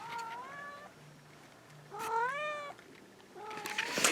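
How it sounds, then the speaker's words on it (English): A male house cat meows three times indoors in a quiet room, each call a drawn-out, rising-then-falling cry, with the last one louder and harsher than the first two. "My cat just came in my room."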